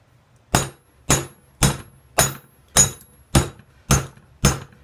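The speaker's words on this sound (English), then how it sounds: "So I'm almost done hammering out the ring pommel on this thing." A hammer strikes a railroad spike eight times while forging the ring pommel of a karambit blade. The blows are sharp, close and ringing, and they fall in an even rhythm about every half second.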